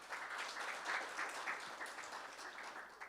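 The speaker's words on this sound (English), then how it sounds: "A round of applause again." Quiet, distant applause from the audience at a World AIDS Day launch event, a soft patter of clapping that swells slightly and fades over a few seconds with no voices.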